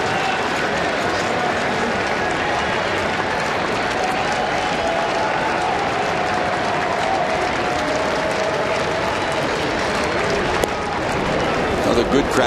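A large baseball crowd at Great American Ballpark applauds in a steady, dense roar of clapping and cheering, with a commentator talking over it.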